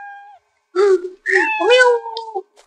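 A cat in a short horror game gives several loud, close meows with rising and falling whiny pitch, separated by brief pauses, in an otherwise quiet space.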